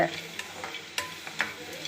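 Roasted gram and coconut are stirred in a pan for kurma, giving soft frying sizzle and scraping with a few sharp, light stirring knocks, close and fairly quiet, without talk.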